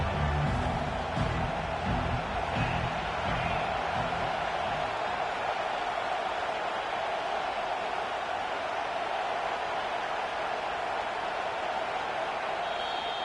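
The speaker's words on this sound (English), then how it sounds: "Here comes this home crowd as the defense tries to get off the field on 3rd down." A home football crowd roars loudly and steadily as the defense tries to get off the field on third down. The dense, sustained roar fills the stadium without a break.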